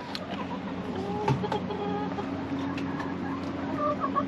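Chickens, some laying eggs, cluck and murmur softly in the background amid a steady outdoor hum, with occasional sharper clucks.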